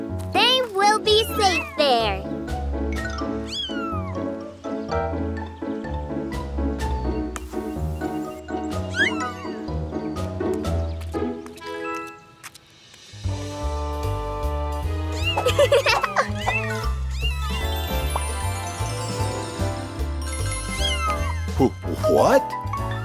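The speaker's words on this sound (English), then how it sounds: "Mila, Morphle found kittens. They are really cute." Cartoon kittens meow in high, repeated cries over background music, with a child-like voice talking at times, the meows frequent and close throughout.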